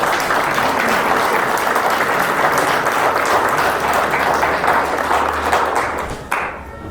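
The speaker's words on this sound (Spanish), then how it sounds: "Denle un aplauso al Señor que lo entiende." Sustained applause from a church congregation at a Spanish-language sermon, dense and steady for several seconds before tapering off at the end.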